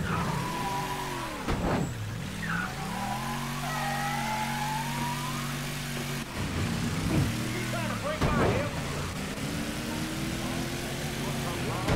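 A car engine hums and revs steadily while driving in Mafia III, a continuous tonal drone that rises and falls in pitch, with speech heard over it.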